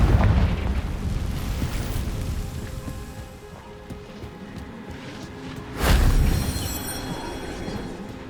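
A Confringo fire spell from the Hogwarts Legacy video game bursts with a deep rumbling boom over a dense, roaring game soundscape, swelling loudly once near the end.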